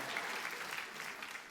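A church congregation applauds during a Christmas Day service, a short burst of dense, steady clapping at moderate level with no talking.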